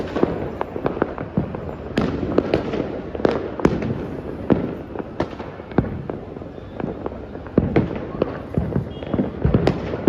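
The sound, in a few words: firecrackers bursting during Makar Sankranti in Ahmedabad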